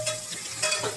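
Chopped tomato and shallots sauté in hot oil for a Tirunelveli fish curry, a continuous close sizzle with brief stirring scrapes, no voices.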